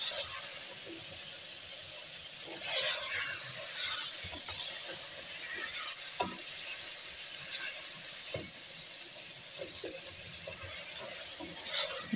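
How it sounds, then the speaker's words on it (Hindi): Crushed ginger and garlic fry in a pan for mash ki daal and gosht, a steady hissing sizzle with scattered light clicks and scrapes throughout, no talking. "अच्छी तरह से फ्राई कर लेंगे"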